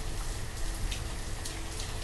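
Steady rain falling in the Banished video game, a dense broadband hiss with scattered droplet patters, continuous and moderately loud, with no voices.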